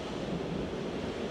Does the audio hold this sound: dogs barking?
no